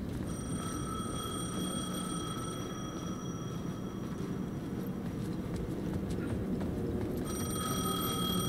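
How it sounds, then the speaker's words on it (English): A payphone ringing in the video game Alan Wake 2, a sustained electronic bell tone with a brief break in the middle, heard over a constant low rumbling ambience. "The payphone was ringing."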